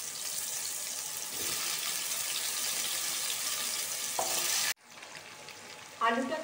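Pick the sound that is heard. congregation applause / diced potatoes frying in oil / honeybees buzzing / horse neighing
diced potatoes frying in oil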